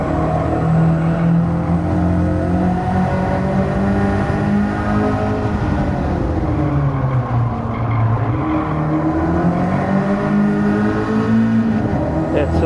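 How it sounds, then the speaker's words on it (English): A Nissan Silvia S14 race car's engine strains hard at high revs during a race, a loud, continuous droning roar with rising and falling pitch as it accelerates and shifts. "That Silvia's engine really sounds like it's working hard."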